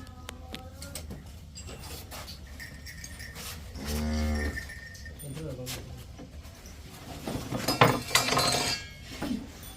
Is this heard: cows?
yes